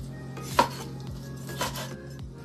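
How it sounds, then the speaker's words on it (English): A knife chops green, orange, yellow and red bell peppers on a cutting board, a few distinct knife strikes with board and dish clatter against a low steady hum, no talk. "So now I'm gonna cut the green peppers. Then the orange peppers."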